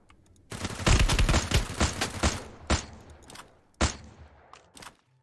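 Rapid bursts of gunfire from the Free Fire Max battle royale game, a dense volley of close, loud shots in the first half followed by a few scattered single shots trailing off, with no talking.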